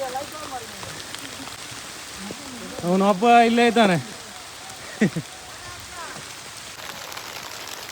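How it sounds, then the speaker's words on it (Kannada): Rain falls steadily on a mountain trek up Gadaikallu, a 1700-foot rock near Belthangady, as a soft continuous patter under brief talk. "ಅದ್ರಾಗ ಒಂದಲ್ಲಿ ಮಳೆ ಬೀಳ್ತಾ ಇದೆ"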